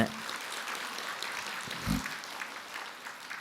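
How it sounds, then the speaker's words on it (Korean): An audience at a Buddhist lecture on AI and the future applauds, a steady, moderately faint patter of many hands that lasts throughout, with one brief low thump near the middle. "네, 박수로 맞으세요."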